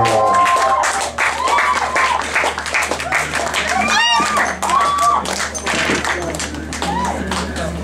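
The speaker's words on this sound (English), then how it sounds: "a round of applause for Ephraim Paul" At a performance poetry and spoken word event, an audience claps and cheers for a poet, scattered taps and applause mixed with crowd voices and a steady low hum throughout.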